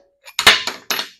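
A metal collet pops out of a lathe fixture on a 10 or 12 inch Atlas lathe, making a quick cluster of bright metallic clinks and rattles, close and alone.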